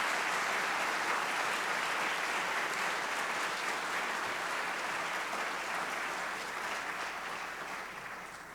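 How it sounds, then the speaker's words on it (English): A round of applause from the audience at a university campus presidential update event: a thick, continuous wash of many hands clapping at moderate distance, staying steady and then gradually thinning toward the end. "And so I want you to join me in a round of applause for Dr. Fannin."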